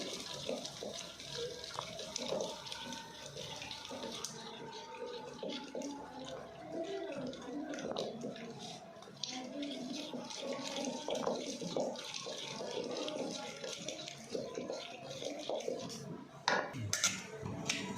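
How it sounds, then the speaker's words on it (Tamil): Cooked brinjal being mashed in a pot for kichadi, giving close, steady wet scraping and clinking of utensil against metal throughout, with no talking. "இப்போ கத்திரிக்காவை கடைய போகிறேன்."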